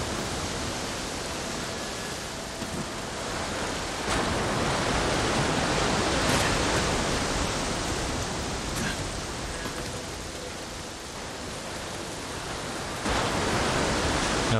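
Continuous broadband rush of ocean waves in the video game Ghost of Tsushima, loud and unbroken, with a few swells and surges over the steady wash.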